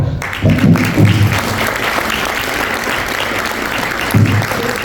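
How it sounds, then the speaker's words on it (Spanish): A university audience breaks into strong applause for a guest speaker, loud dense clapping that carries steadily through, with a few low thumps and murmurs underneath. "Fuerte aplauso."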